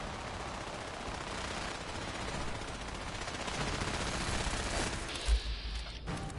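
Rapid automatic gunfire in Fallout 4 rattles continuously and loudly throughout, a dense sustained burst with a sharper shot standing out near the end.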